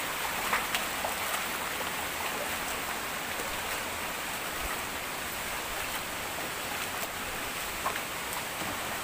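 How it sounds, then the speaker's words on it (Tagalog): Continuous patter of water falling like rain at Walang Langit Falls, a dense steady hiss of droplets with occasional sharper splashes, constant throughout. "para siyang umuulan"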